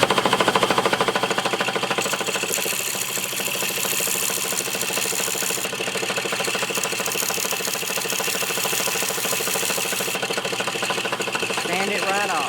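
An electric power tool sands a wet, painted two-inch earring, a loud continuous buzzing drone close up that holds steady throughout, with brief high squeaks near the end.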